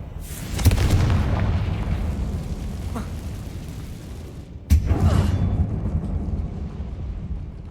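In the Hogwarts Legacy video game, the Confringo blasting spell goes off inside a closed mine that looks like a tomb. A heavy boom sounds near the start and a second sharp blast comes later, each leaving a loud, rumbling wash behind it.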